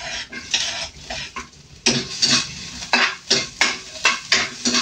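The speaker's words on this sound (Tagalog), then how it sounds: "Yan, gisa-gisa lang natin siya guys." Ginger, garlic and onion are stirred and sautéed in a pan, with a loud, close, irregular series of spoon scrapes and clanks against the metal over a soft sizzle.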